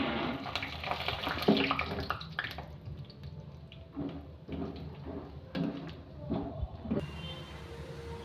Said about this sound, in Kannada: ಇದಕ್ಕೆ ಸ್ವಲ್ಪ ಕಡಲೆ ಬೀಜ ಹಾಕ್ಕೊತಾ ಇದ್ದೀನಿ